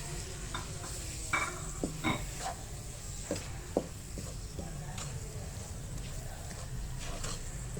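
Tomatoes with salt, red chili powder and turmeric cook alongside chicken and mixed vegetables in a pan, a low steady sizzle with scattered scraping stirs of a spoon, fairly quiet.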